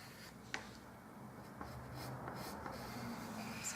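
Blade cutting through card for relief layers, a quiet scraping and rasping with a few small clicks, close and steady.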